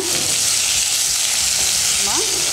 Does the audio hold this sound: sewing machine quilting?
no